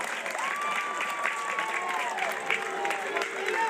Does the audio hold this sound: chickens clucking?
no